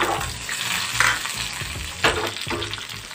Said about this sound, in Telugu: ఒక చిన్న టమాటా ఇదే ఆయిల్లో వేపుకుందాం